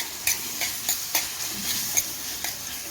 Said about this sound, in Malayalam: നെയ്യ് ചൂടായി, നമുക്ക് മാമ്പഴം ഇട്ട് കൊടുക്കാം.